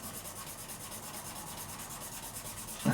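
Fine sandpaper rubbing steadily across the frets of a Fender Stratocaster neck during a refret, a soft continuous rhythmic scratching up close, with a brief heavier thump at the very end.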